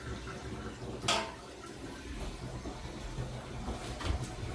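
Water drains from a basin in a food truck while a small pump runs underneath, a steady low whirr and gurgle with a few splashes, close by.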